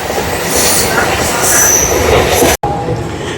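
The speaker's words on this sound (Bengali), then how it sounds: "আমাদের ট্রেন সাঁতরাগাছি স্টেশনের 6 নম্বর প্ল্যাটফর্ম থেকে ছেড়ে দিল।" A local train on the Santragachi to Digha line pulls out from platform 6 at Santragachi station, loud and close, with rumbling wheels and high squeals before an abrupt cut, then quieter rolling.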